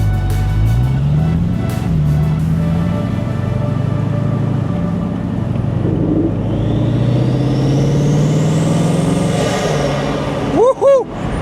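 A Bugatti Mistral's quad-turbo W16 engine drones and rumbles steadily as the car accelerates, with a rising turbo whine late on, ending in brief higher-pitched tones.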